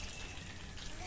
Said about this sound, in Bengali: জল দেওয়া হলো।